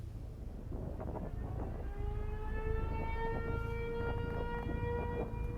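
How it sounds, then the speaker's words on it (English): Tornado sirens in Moore, Oklahoma wail steadily from a distance, a rising, sustained tone carried over low rumbling wind noise. "tornado sirens in the general area go off"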